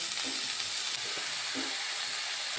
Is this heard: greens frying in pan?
yes